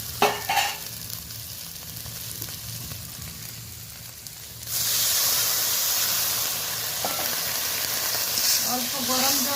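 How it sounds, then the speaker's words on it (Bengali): Hot water poured into a pan of onion, tomato and ginger masala bursts into a loud, steady sizzle and hiss that holds to the end, following a quieter stretch of stirring and frying. "অল্প গরম জল দিয়ে দিয়েছি।"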